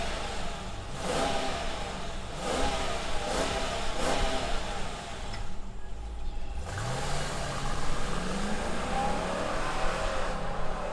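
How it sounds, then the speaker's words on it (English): A V8 engine in a 2021 Jeep Grand Cherokee L is heard through several strong revs, with a short dip around midway before it picks up again. The engine sound is loud and close and stays steady throughout. "let's fire up this engine because we got a V8 and hear what it sounds like"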